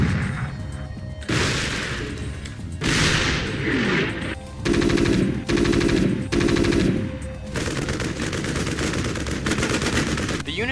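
Punchy StarCraft unit attack effects from the video game, a dense run of loud rapid-fire gunshots, bursts and crashing impacts that follow one another in distinct segments with short gaps between them.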